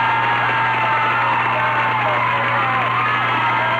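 Crowd cheering and whooping at a 1994 high school football game between Clinton and Blissfield after a touchdown, a steady, loud wash of distant voices that holds throughout.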